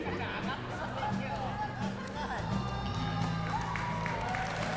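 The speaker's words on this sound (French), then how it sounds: "Applaudissez-le bien fort." A convention crowd at Japan Expo claps and cheers for a challenge winner, a steady mid-level wash of applause and chatter with a voice talking over it.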